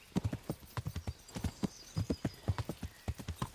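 Horse hooves clip-clop in a quick, regular trotting rhythm while riding in Kingdom Come: Deliverance, each strike crisp and close, with a faint whinny mixed in.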